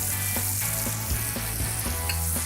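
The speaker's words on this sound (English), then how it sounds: "You want the pan hot enough that as soon as that meat hits the pan, it starts to sizzle." A wagyu beef burger patty sizzles in hot bacon fat in a pan, a steady, dense crackle close by with small pops and no voices.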